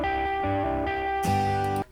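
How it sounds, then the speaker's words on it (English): Crunchy, distorted electric guitar chords from a song ring out loud and sustained in stereo, shifting to a brighter, fuller chord near the end before cutting off abruptly. "Nice, I like that crunchy guitar."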